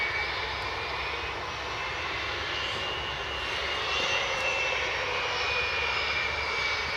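A KLM airliner's engines roar steadily on approach to Edinburgh Airport, a loud, continuous broadband rush holding level throughout with no voices.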